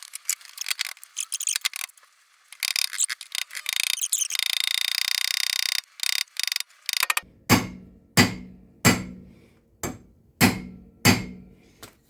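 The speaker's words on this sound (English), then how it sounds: "I shall get a hammer and I shall tap that in" A hammer taps a rear wheel bearing into a Gilbern/MG car's hub: after scraping and rattling handling, six sharp metallic blows ring out close and evenly spaced, each decaying briefly.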